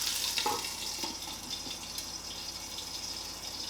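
Meat pan frying with a steady, close sizzle that holds through the whole stretch, plus a few soft clicks and scrapes of handling near the start.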